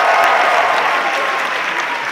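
A concert audience cheers and applauds loudly for a couple of seconds, a dense wash of clapping and shouts with no single voice standing out.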